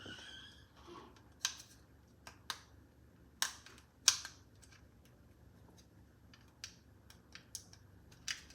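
A metal credit card pries at an E30 gauge cluster, giving sparse, sharp clicks and snaps of plastic clips, about a dozen irregular ticks over quiet background, close and crisp.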